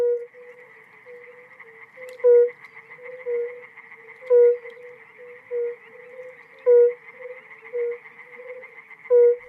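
Tree frogs and toads call in a continuous, pulsing chorus with rhythmic trills, and a louder croak breaks through about every two seconds.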